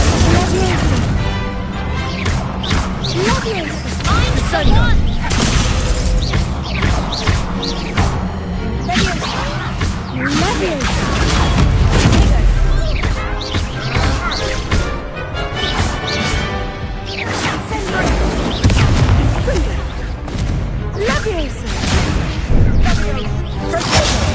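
Hogwarts Legacy duel with the Confringo fire spell: dense bursts of blasts, whooshes and crashes keep up steadily throughout, with game voices speaking over the combat.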